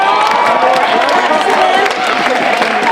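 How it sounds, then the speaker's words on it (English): Banquet crowd applauding and cheering for undergraduate students, a loud, dense mix of clapping, whoops and overlapping voices filling the room throughout. "Give them some applause."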